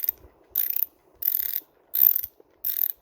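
A ratcheting multi-bit screwdriver, the Michael Pro 19-in-1, gives four short bursts of rapid clicking from its ratchet, separated by brief pauses and recorded close up with no talk.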